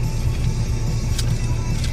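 A nearby car's engine rumbles steadily and low, a close idling drone with faint rattles and no talk over it.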